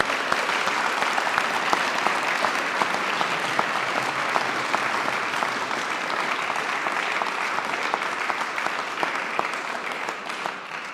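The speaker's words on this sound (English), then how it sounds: "A round of applause, please." An audience at the 2024 East regional volunteer awards for athletics gives a round of applause, sustained, even clapping from many hands, loud and continuous for about eleven seconds before tapering near the end.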